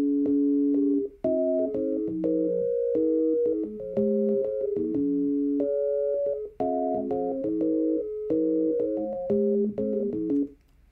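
A guitar part converted to MIDI plays back as clean, synthetic-sounding tones, with a rough, slightly stiff melodic line of short and held notes over about eleven seconds, alone and clear.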